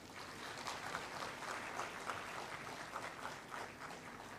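Graduation-day audience at SDUMC clapping in a large hall for Dr. Sudarshan, a steady, fairly faint patter of many hands that continues evenly throughout.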